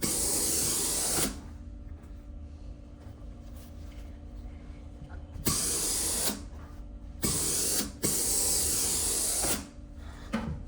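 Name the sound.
steam iron pressing a sewn seam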